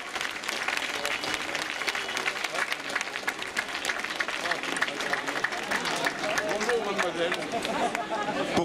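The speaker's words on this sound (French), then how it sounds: "Ça mérite vos applaudissements des plus fournis pour Léo Danès" Crowd applause at a cycling race podium ceremony in Plédran, France, sustained dense clapping for the whole stretch with cheering and chatter mixed in, loud and close.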